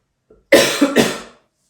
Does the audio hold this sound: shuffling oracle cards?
no